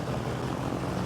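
Piston engine of a Cessna 421C twin, the second engine just started and idling, a steady loud droning rumble with no speech.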